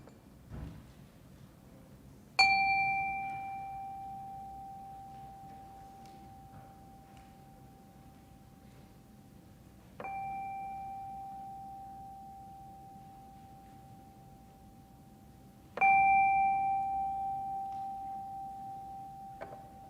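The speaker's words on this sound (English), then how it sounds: "calm our hearts with the ringing of our chime" A chime rings three times at a Unitarian Universalist Sunday service, each clear bright strike lingering and slowly fading in a quiet room before the next.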